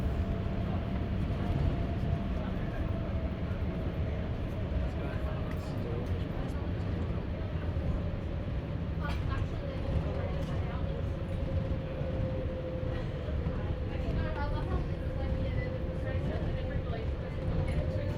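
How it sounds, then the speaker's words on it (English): An airport aero train runs through an underground tunnel toward the departure gates, a constant low rumble and rolling drone with a faint steady whine shifting slowly in pitch throughout. "I'm boarding the aero train to my departure gate"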